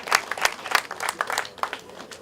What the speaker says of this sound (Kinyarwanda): Mumuhera amashyi.